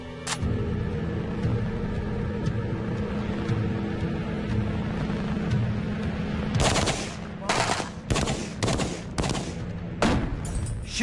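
AK-47 and M16 rifles fire through 30-round magazines at an outdoor target. A loud, close string of rapid shots and bursts follows a steady low hum and rumble.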